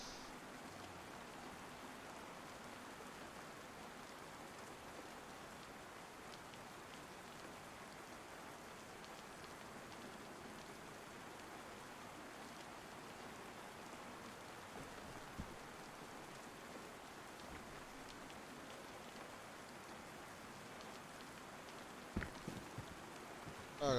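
Steady rain falls in a zombie apocalypse video game, a continuous even hiss of drops on surfaces that holds throughout, with a few faint knocks near the end.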